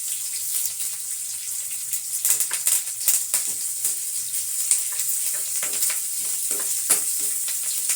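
Chopped onions, pounded garlic and curry leaves fry in a hot pan with a continuous bright sizzle and crackle, rising and falling slightly as the pieces are stirred, close and steady with no talking.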